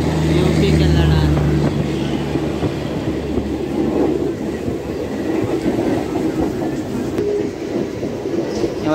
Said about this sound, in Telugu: సో ఇది గోదాన్ ఎక్స్ప్రెస్. సో యూపీకి వెళ్ళే వాళ్ళకి ఇది చాలా బెస్ట్ ట్రైన్ అన్నమాట